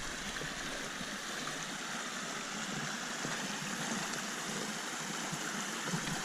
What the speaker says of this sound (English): look how small the River Exe is here